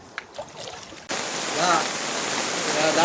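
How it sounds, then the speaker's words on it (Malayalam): A steady hiss of rain sets in suddenly after a quiet moment over an already flooded area, continuing evenly and fairly loud, with faint voices in the background. "മഴ തുടങ്ങിയിട്ടുണ്ട്"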